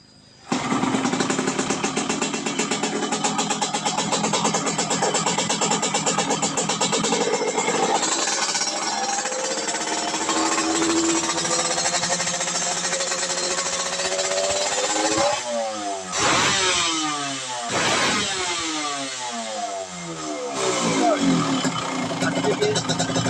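A Yamaha RX King motorcycle engine starts up and runs loudly and steadily close by, its pitch rising and falling as the throttle is blipped several times near the end.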